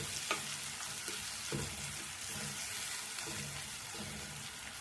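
Mint and coriander sautéing in oil for vada curry, giving a steady, fairly quiet sizzle broken by a few soft stirring scrapes, with no talking.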